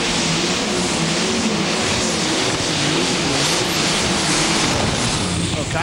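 John Deere super stock pulling tractor from California roaring at full throttle during a pull at the NTPA Super Nationals in Tomah, Wisconsin, a loud, continuous, dense engine howl with crowd and announcer noise blended in.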